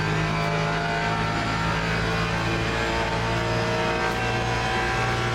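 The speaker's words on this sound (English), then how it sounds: "As we drop back then into the Lexus, so you can get a different listen to some of the other engine sounds within the game" A Lexus race car in the racing video game LMU at Monza gives a loud, throaty, continuous engine drone at steady high revs. It runs without pause or speech for the whole stretch.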